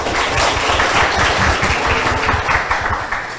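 Audience applause for two school debate teams at an interschool debate, a steady, dense wash of clapping filling the room throughout without pause.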